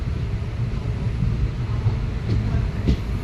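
A new Indian Railways train passing near Palakollu, a steady, close, low rumble of wheels and carriages running continuously with faint clicks of rail joints throughout.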